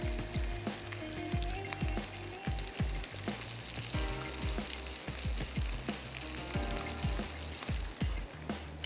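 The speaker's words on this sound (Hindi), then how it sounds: "ये जो हमारे समोसे बनने जा रहे हैं दोनों तरफ से अच्छे से फ्राई होते हैं" Samosas deep-fry in hot oil with a dense, continuous bubbling sizzle and rapid crackling pops, close and unbroken, with no talk.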